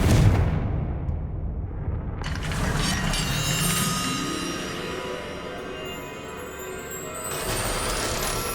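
A Confringo fire spell blasting in Hogwarts Legacy, a loud burst followed by rumbling, crackling debris and mechanical rattling that fades, then swells again near the end.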